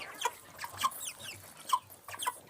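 Young farm chicks peep in a brooder, a string of short, high chirps repeating irregularly, close and fairly soft with quiet rustling beneath.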